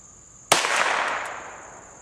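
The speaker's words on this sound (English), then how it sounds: "here's a Ruger Mark IV at 50 yards. Shooting swinging target." Single sharp crack of a Ruger Mark IV .22 rimfire pistol fired outdoors at a swinging target 50 yards away, followed by a long fading echo with a faint distant ping.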